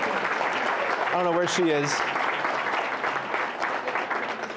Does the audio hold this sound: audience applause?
yes